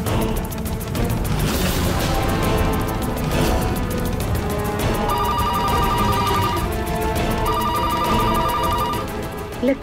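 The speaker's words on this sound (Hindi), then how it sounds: "लगता है पलक का फोन है।" A phone ringtone rings in repeated electronic bursts over a busy, loud background of music and crashing sounds, with no talking.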